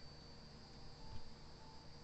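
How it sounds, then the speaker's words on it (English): Crickets chirping at night, a faint steady high-pitched trill running unbroken throughout, with a low background hum and no voices. "I don't know if you can hear those crickets or not, but they're driving me nuts."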